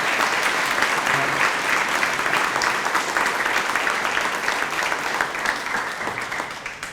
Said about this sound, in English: give a nice big round of applause to all of your parents, caregivers